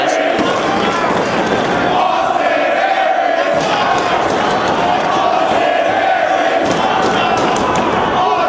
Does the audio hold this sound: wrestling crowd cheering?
yes